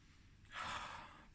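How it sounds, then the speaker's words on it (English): A person takes one short, breathy sniff of a glass of beer, close and quiet, lasting about half a second. "let's give it a sniff"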